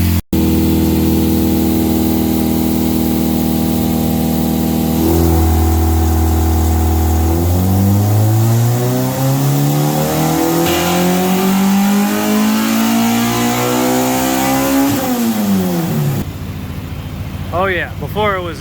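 A 215 hp Honda B20 VTEC engine on a dyno idles loudly, then climbs in one long, steady wide-open pull to a high-pitched scream before cutting off, followed by a quieter chirp.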